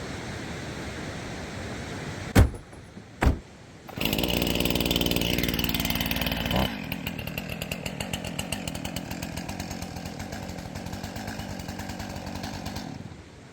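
A two-stroke gas chainsaw used for forest trail maintenance in British Columbia: two sharp knocks, then the engine starts loud and close, revs hard, and settles into a steady buzzing idle with a pulsing rhythm.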